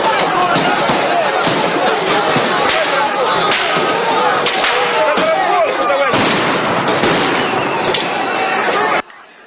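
Firecracker blast packets go off among marchers as pro-Russian activists attack a patriotic march, sharp loud bangs and cracks repeating through roughly nine seconds of dense crowd shouting and commotion, ending abruptly.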